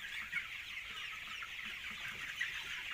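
Chickens and roosters cluck steadily inside a spacious, dry farm coop, a dense, continuous chorus of overlapping calls at moderate distance with no talking.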